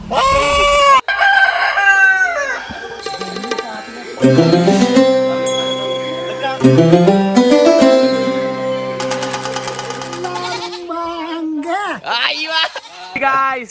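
Village chickens cluck and call loudly up close, with a rooster crowing several times; the cries come in bursts with short pauses between.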